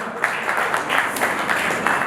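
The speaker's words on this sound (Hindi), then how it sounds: "एक बार इनके लिए जोरदार तालियां।" Audience applause at a Rajasthan public gathering, a brief burst of loud, dense clapping from a crowd, continuous and close for its short length.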